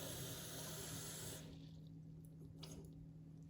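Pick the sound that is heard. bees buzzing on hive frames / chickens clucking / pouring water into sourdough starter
pouring water into sourdough starter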